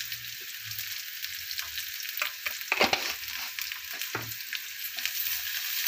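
Onions, chilies, cumin and fennel sauté in a pan while being stirred for a chicken curry. A steady close sizzle runs throughout, broken by scraping stir strokes and a few sharper crackles, with no talking.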